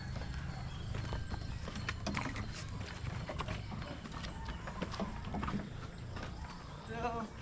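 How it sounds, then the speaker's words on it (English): Horses pass along a rural mountain road in the Philippines, their hooves clip-clopping in an uneven rhythm near the microphone, with faint background sounds throughout. "Horses just pass by."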